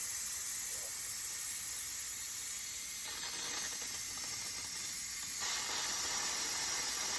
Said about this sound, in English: let all the steam out